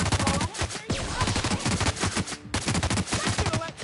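Pulse gun shots in a space exploration video game, rapid continuous bursts of close, loud firing with a brief break, and no talk over the shooting.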